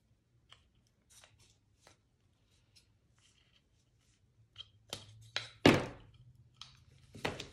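Scissors trim jute tassel fibers in a few quick, crisp snips and rustles, following a quiet stretch of faint handling noises.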